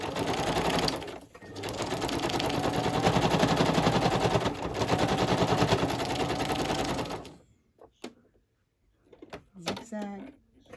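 A sewing machine stitches a zigzag on fabric and paper in a fast, continuous rattling run, then stops abruptly, leaving a few soft handling taps and a brief voice.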